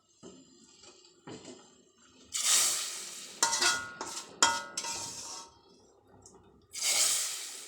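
Ingredients splash and clatter into a pot of clear Javanese vegetable soup on a switched-off stove, with several separate wet plops and clanks in close succession, loud and near.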